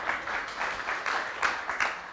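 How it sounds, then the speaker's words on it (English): Audience at a Minneapolis club event clapping, a short burst of dense applause from a nearby crowd with a steady pulse of hand claps that fades slightly at the end. "A round of applause."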